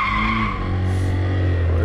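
A car braking hard with tires skidding and squealing in a continuous loud screech, with a steady engine drone beneath it, close and unbroken for about two seconds.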